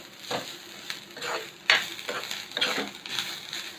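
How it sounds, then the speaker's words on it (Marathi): Dry and fresh grated coconut roasting in a pan over low heat, with a soft background sizzle broken by several distinct scraping strokes of a spoon stirring, fairly quiet and without any voices. "सुका आणि ओला खोबरा आपण मिक्स भाजून घेणार आहोत"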